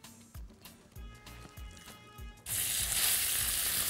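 Meat hits a very hot pan greased with a little ghee: after a few soft knocks and handling sounds, a sudden loud, steady sizzle bursts up and holds, close by.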